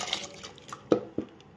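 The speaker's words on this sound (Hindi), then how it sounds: "चावल डाल देंगे अब पानी में," Washed rice tipped into a pot of boiling water makes a few wet plops and splashes, two sharper ones standing out, over a quiet bubbling background with no talk.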